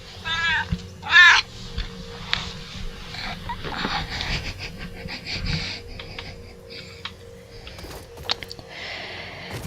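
A house cat meows in a room, a couple of sharp rising cries near the start followed by scattered softer sounds and thumps, with no talking over it.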